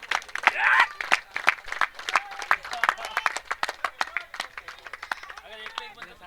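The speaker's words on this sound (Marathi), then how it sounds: "टाळ्या वाजवा" Spectators clapping at a masters cricket tournament match, a scattered run of sharp claps mixed with crowd noise and a commentator talking over it.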